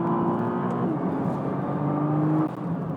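A 2013 Nissan GT-R accelerates hard around the Spa circuit, its engine a loud, sustained roar with steady pitch and a brief shift partway through, heard alone from inside the car.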